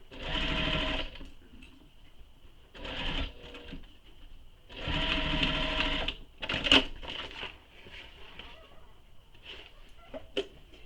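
A sewing machine stitches the pleated panels of a fabric shoulder bag, running in several loud, steady bursts of a few seconds each, separated by short quiet pauses and a few faint handling clicks.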